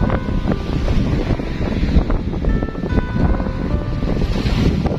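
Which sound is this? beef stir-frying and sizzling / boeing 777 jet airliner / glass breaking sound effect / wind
wind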